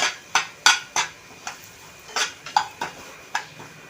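Semolina is dry-roasted in a pan for kesari while a spoon knocks and clinks against the metal about a dozen times in an uneven rhythm, close by over a quiet background.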